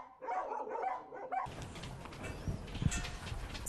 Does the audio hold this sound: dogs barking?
yes